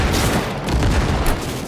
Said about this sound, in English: Grenades! Grenades for everyone!